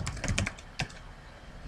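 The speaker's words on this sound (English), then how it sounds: "you can hit control F, type in your term" Computer keyboard typing, a quick close burst of several key clicks followed by a single harder tap and then quiet, no talk.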